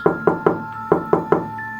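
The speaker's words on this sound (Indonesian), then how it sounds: "yang mengetuk lemari" Knocking on a wooden wardrobe as a horror sound effect: six sharp, close knocks in two groups of three, each with a short resonant ring, over a faint steady tone.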